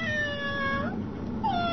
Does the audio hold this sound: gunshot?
no